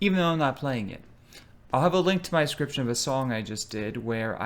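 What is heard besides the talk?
No everyday noises stand out.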